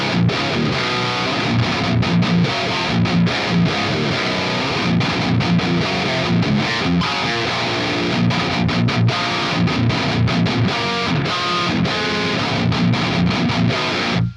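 Heavily distorted electric guitar through an amp simulator's 5555 lead channel, playing chunky, aggressive riffs with palm-muted chugs, loud and continuous with no pauses.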